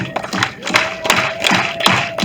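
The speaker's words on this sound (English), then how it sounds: "Clap your hands with me." A rally crowd claps hands along in a steady beat, with loud rhythmic claps repeating about twice a second under a bright, busy mix.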